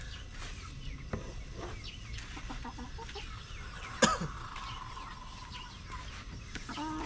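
Backyard chickens cluck and call softly nearby while eating rice bran feed, with scattered clucks, a sharper squawk in the middle and faint scuffling throughout.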